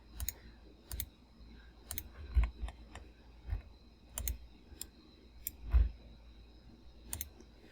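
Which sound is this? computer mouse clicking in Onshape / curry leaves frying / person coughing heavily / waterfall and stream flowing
computer mouse clicking in Onshape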